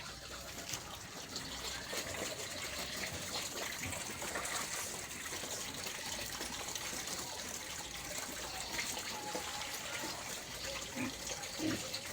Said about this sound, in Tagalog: Lagay tubig dito nyo.